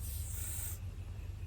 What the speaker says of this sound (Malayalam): ഈ ഒരു സ്പ്രേൻ്റെ ഗാർണിയറിൻ്റെ സ്പ്രേ സൺസ്ക്രീനാണ് കേട്ടോ. നമുക്ക് സ്പ്രേ ചെയ്ത് കൊടുക്കാം